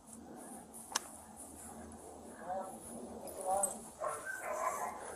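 Dogs bark inside a house, faint and muffled through the walls, with a few short yelps under a tense exchange of raised voices nearby.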